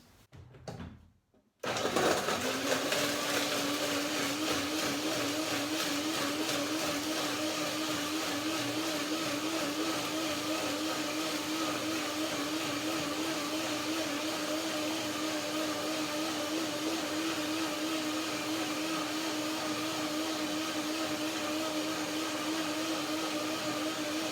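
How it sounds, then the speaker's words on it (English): After a brief quiet moment, a blender with a little water roars to life and keeps whirring loudly and steadily without pause. "just a little bit to get the blender started"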